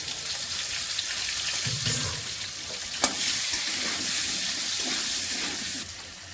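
Potato pieces frying in a pan with salt and turmeric, a dense continuous sizzle close up, with occasional stirring scrapes and one sharp knock of the spatula partway through, no voices.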